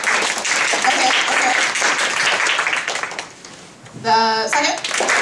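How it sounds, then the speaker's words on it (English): A fan convention crowd at a She-Ra panel applauds to vote for the first contestant, a loud burst of clapping that fades into a lull before a voice and a brief second swell of claps. "By applause, let's go."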